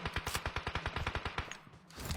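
Rapid automatic gunfire in the PUBG Mobile battle royale shooter, a fast regular burst of about fifteen sharp shots that stops abruptly, loud and close, with no voices.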